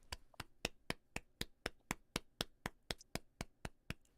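Hands clap in a steady, even rhythm, about sixteen sharp claps close by, with no talk over them.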